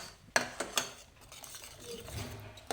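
A spoon scrapes and clinks against a pan while masala is stirred and roasted for methi matar coconut malai, giving a few sharp metallic taps followed by soft scraping and a faint sizzle.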